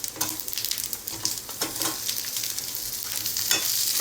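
Medium onions frying in oil with garlic and ginger give a dense, close sizzle with quick bursts of crackle and the scrape of stirring, continuous with no talking.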